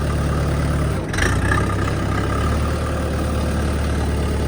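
A DTZ 40 tractor engine runs steadily at a low, rumbling idle, with a brief dip and clunk as the gearbox is shifted, loud and close throughout.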